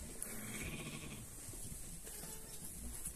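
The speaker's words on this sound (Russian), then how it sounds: "А это вот овца старенькая уже, мамка вот этого вот барана." An old ewe of a small breed on a farm gives faint, wavering bleats. They sit low in a steady, noisy barn background, with no talking.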